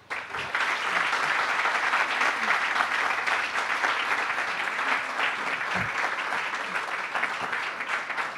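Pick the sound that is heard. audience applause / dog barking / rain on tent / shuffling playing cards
audience applause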